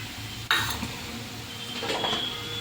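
Sabudana khichdi with sugar and crushed roasted peanuts is stirred in a pan, opening with a sharp utensil clink and followed by continuous soft scraping and rustling.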